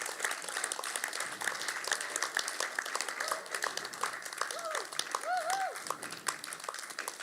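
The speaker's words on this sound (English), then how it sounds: "Give them a clap." A church congregation claps during a Sunday morning service, welcoming a group of interns. The applause is faint and scattered and comes from a distance, with a voice speaking over it.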